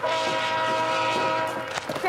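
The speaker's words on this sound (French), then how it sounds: "Le train arrive." A Via Rail train approaching a farm near Hudson Bay, its sustained horn sounding loud and steady with rumble beneath, a brief clatter near the end.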